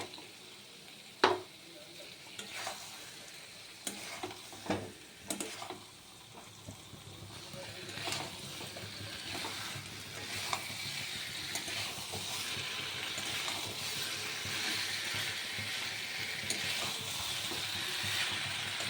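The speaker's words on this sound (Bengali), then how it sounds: "এবার আমি ভেজে রাখা আলুগুলো দিয়ে দেবো" Previously fried potatoes go into a pan of spiced pointed gourd and prawn curry with bay leaf. A few sharp knocks and stirring clatters give way to a steady, soft sizzle of frying.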